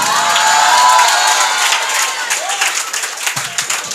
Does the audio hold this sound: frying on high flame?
no